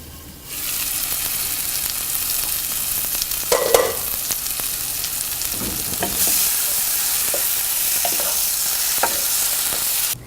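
Shrimp masala frying in a pan, a steady loud sizzle throughout, broken by scraping spoon strokes as it is stirred now and then.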